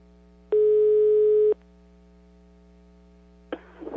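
A telephone ringback tone plays as a call goes through again: one steady, loud, one-second beep over a low line hum. A stretch of quiet follows, then a rough burst of noise at the end.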